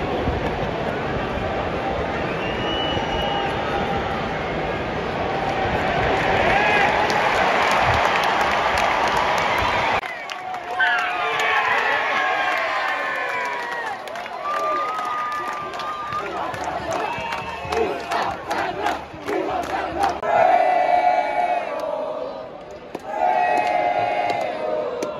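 A football crowd roaring in the Fremantle cheer squad at a West Coast versus Fremantle game, a dense loud din that drops to scattered shouts, chanting and talk close by.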